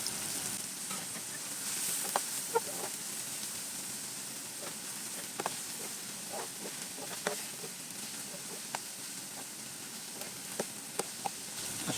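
Shrimp frying until light brown for a Bengali-style prawn curry, a soft continuous sizzle with scattered sharp pops and crackles, fairly quiet and close, no voices.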